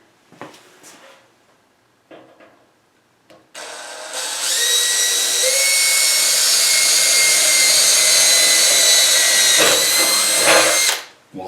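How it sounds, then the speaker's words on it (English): A drill bit bores a hole in a metal dust collector housing for a woodworking shop upgrade, starting after a few light knocks and then whining loudly and steadily up close for about seven seconds before stopping abruptly. "let's get a hole in this thing"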